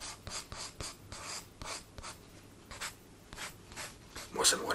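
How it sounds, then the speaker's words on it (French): A pencil drawing on paper for ASMR: close, scratchy graphite strokes rasp across the sheet in a steady run of short, repeated sweeps, with a brighter, sharper scribble near the end. "bruit donc du crayon, vraiment en ASMR"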